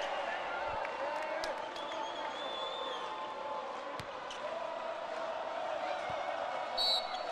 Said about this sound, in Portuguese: E a torcida brasileira fazendo a festa.